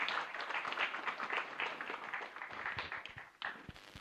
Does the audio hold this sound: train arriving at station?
no